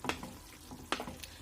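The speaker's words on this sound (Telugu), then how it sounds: "చూస్తున్నారు కదా, ఈ విధంగా మరుగుతుంది" Tomato curry with curry leaves simmering in a pan on medium flame, soft bubbling pops and a couple of brief sizzling bursts close by, quiet with no talking.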